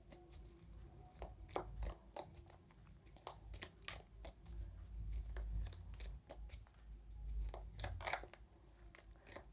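A tarot card deck is shuffled by hand: soft, quiet papery riffles and taps in an irregular rhythm, close by, over a low background hum.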